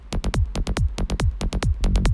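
A drum-like track processed with expansion in a Maximus compressor, with about a dozen punchy hits in a quick uneven rhythm. Each hit cuts off sharply into near silence, with no talk.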